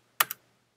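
Two quick clicks on a computer keyboard while a password is typed, close and crisp, with nothing else heard around them.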